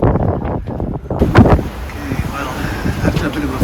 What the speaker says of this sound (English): we've got the wind free straight in from the Atlantic